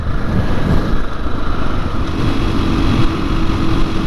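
A 2021 KTM 500 EXC-F dirt bike, uncorked, cruises in sixth gear with a steady, droning engine note heavily buffeted by wind roar across the microphone, loud and continuous with no speech.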